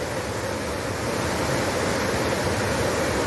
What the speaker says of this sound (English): This must be the most beautiful waterfall we've ever seen in our entire lives.